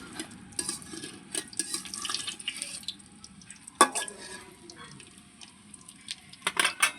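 Teasel gourds fry in hot oil in a wok over a clay stove, with a soft steady sizzle, occasional clinks of a utensil against the pan and a few sharper knocks, close by and fairly quiet.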